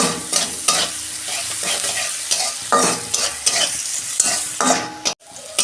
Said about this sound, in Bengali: পেঁয়াজটা আমি একটু লাল লাল করে ভেজে নেব